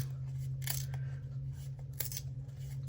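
Scissors trim the edge of painted background paper, a few short, quiet snips and crisp cuts heard close over a steady low hum.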